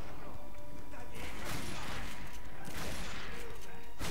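Enemy gunfire in The Darkness II video game, several loud bursts of shots and crashing impacts arriving in clusters, close and harsh, over a constant noisy backdrop.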